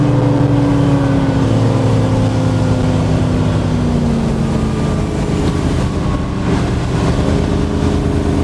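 A Crownline 225 LPX motorboat runs at about 50 mph and 4,800 RPM, its engine roaring loud and steady across the water with rushing hull and wind noise and a slight pitch drift.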